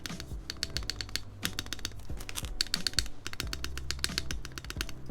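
Rapid, crisp clacking of a custom mechanical keyboard fitted with GMK ABS keycaps, dense bursts of keystrokes with deeper spacebar thuds, close and clear with no talk.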